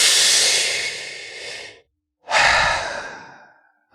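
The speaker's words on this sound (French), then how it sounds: "Peut-être simplement en prenant une grande et profonde respiration." Two long, deep breaths sound close and loud, each a breathy rush of air that trails off slowly, separated by a brief silence.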